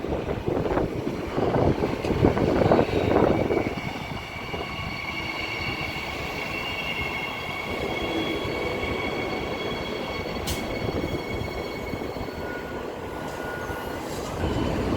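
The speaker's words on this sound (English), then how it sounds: "Now arriving on platform 2, we have a Coburn Central service," A Perth electric multiple-unit train, EMU 92 leading a Cockburn Central service, rolls into platform 2 at Murdoch station, a rumble and hiss of wheels fading down with thin sustained squeals and a sharp click midway.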